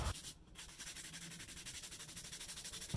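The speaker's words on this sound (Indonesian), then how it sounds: "Untuk pengamplasan saya masih menggunakan metode dry sanding ya lur" Dry sanding of carbon forged epoxy resin with 180 grit sandpaper, a steady, close rhythmic rasp of repeated back-and-forth strokes running throughout, with a brief dip near the start.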